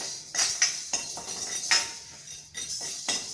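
Whole pepper and cumin go into a hot pan for roasting, heard as a series of sharp metallic clinks and scrapes of a utensil against the pan, close and irregular, with no voices.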